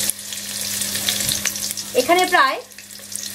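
Onions fry in soybean oil in a pan, a steady close hiss and sizzle with a brief spoken phrase over it near the middle.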